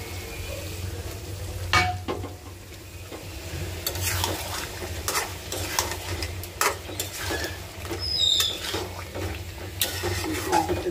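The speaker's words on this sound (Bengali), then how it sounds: "মুরগিটা কষতে থাক।" Chicken stir-fried with spices in a pan, a continuous crackling sizzle with frequent scraping strokes of a spoon, close up, and a faint bird call in the background.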